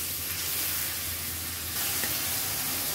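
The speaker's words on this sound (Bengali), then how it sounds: "চুলার জাল হাই রেখে সবগুলো উপকরণ একটু ভেজে নিচ্ছি" Chow mein ingredients, including chopped onion and green chilies, fry on high heat in a pan, giving a steady, close sizzle with soft stirring scrapes throughout.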